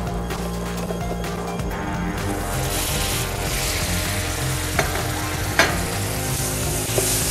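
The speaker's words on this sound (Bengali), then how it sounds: "একটু ভুনে নিলাম যেহেতু কাঁচা গন্ধটা যেটা আছে না সেটা থাকবে না" Tuna with spices sautéing in a pan, Maldive style, sizzling and frying steadily throughout, with a few brief stirring scrapes and clinks near the end; no talking.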